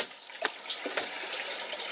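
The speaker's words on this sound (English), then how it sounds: "Water flowing." Water runs steadily from the takeoff fitting of an AEM Easy Drum 22 rain drum with a Uniseal connection, a continuous close trickle and splash with a few brief louder spurts.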